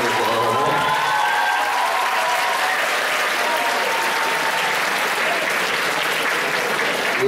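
Steady, dense applause from an audience fills a hall at a music video premiere, continuous and fairly loud for several seconds with a faint crowd murmur and a brief voice near the start.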